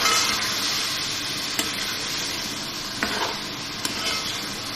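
Steady loud sizzling from a hot pan as boiled chickpeas are stirred into spices for chana pulao, with occasional scraping taps of a spoon against the pan.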